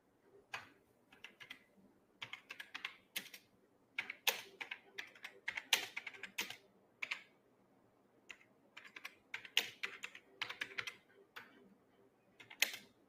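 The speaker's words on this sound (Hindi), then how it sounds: "वो अरे कीबोर्ड टाइप कर रही। मेरे कीबोर्ड की आवाज है।" Someone types on a computer keyboard during an online debate call, irregular bursts of quick close clicks and key taps with short pauses between, alone without talk.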